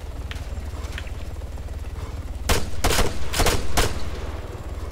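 Gunfire in the military video game Arma 3: a quick cluster of four or five loud, sharp shots over a constant low rumble, with fainter distant pops earlier on.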